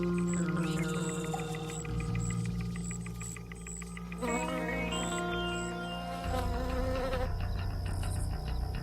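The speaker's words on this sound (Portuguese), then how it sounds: "sua folhagem está quase sempre fervilhando de tipos diferentes de insetos" Flying insects buzzing around the foliage of purple loosestrife, a weedy garden plant, a continuous droning hum with overlapping higher whines, steady and close, joined by soft background music.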